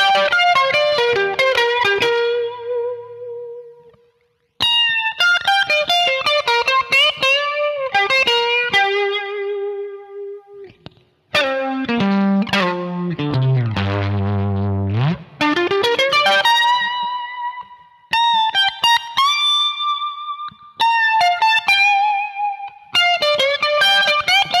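Electric guitar through Blue Cat's Axiom amp plugin in a David Gilmour Shine On style tone, with slapback echo with few repeats plus reverb; melodic bends and sustained notes played alone, clean and present, with short gaps between phrases.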